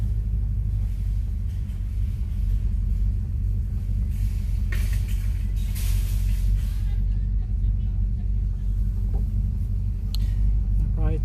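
A 1970 Oldsmobile Delta 88 rolls slowly through a grocery store parking lot, its engine giving a deep, steady rumble close by, with someone talking intermittently over the idle.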